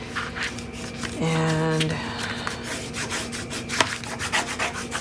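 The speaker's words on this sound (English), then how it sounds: "I'm burnishing everything." Paper is burnished by hand for a 7.5 by 7.5 inch mini album base, giving close, steady rubbing strokes, with a brief tonal hum partway through and a few sharp taps near the end.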